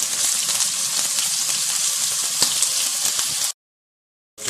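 Chicken pieces sizzle and fry steadily in a pan for chicken pulao, a continuous close crackle with no talk, cutting off briefly near the end before resuming.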